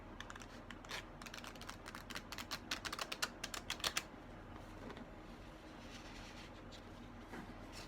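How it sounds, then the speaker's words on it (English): A deck of cards being shuffled, a quick flurry of crisp riffling clicks building to a denser burst before stopping, quiet and close over a low background hum. "The fun deck for me to shuffle."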